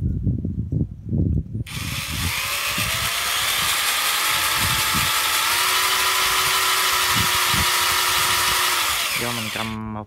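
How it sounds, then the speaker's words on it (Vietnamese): A Bosch GSB 140Li cordless drill bores into a piece of wood, first a few taps, then a long, steady, loud whine with a slowly shifting pitch, ending in a ratcheting clatter as it slows. "Giờ mình cứ khoan thử cái cây này thử coi xem thế nào."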